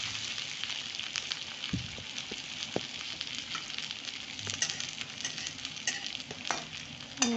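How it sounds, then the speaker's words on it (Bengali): Soft, steady sizzle of onions frying in a pan until reddish-brown, with occasional stirring scrapes and small clinks, close up, no talking. "পেঁয়াজগুলো আমার লাল লাল করে ভাজা হয়ে গেছে।"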